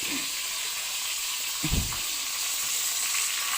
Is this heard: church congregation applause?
no